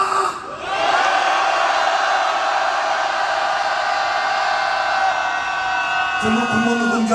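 A crowd of public-sector union protesters at a candlelight rally shouts a long, sustained cheer in unison, loud and continuous for several seconds before fading into talk.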